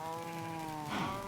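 A sheep bleats on a harmonic, wavering tone from an automatic sheep farm in a blocky survival video game, a single steady call heard alone at moderate loudness.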